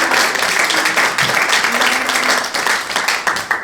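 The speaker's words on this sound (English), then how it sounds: "Can we give her a round of applause?" An audience gives a round of applause for a speaker at a gathering, with steady, dense clapping throughout and no voices over it.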